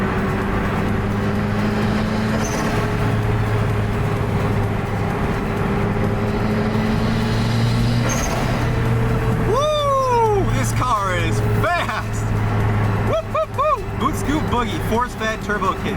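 A Lotus Elise with a turbo kit cruises on a highway, engine drone steady under constant road noise, with a few sharp whistling turbo or blow-off sounds rising and falling near the end.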